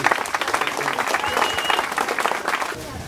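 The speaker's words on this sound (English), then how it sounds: "a round of applause for some legacy" Audience clapping at a mayoral campaign kickoff in Pitt Meadows rises in a dense burst of hand claps, close and lively, with faint voices mixed beneath the applause.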